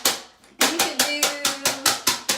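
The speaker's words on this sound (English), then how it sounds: "So you're gonna clap really fast." Hands clap a quick, steady beat with a sheet of paper held between the palms, about ten crisp slaps in a row after a short quiet start, each one sharp and close with a papery rattle.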